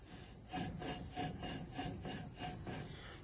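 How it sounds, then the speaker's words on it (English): Drum brake shoes on a 1998 Ford Ranger rub against the drum as the wheel turns, giving a faint rhythmic scraping that repeats about every half second with no talking. "just starting to hear the brake material on the drum"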